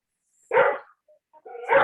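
A dog barks twice, close and loud, with a short quiet gap between the two sharp barks and a faint whimper-like sound in the pause.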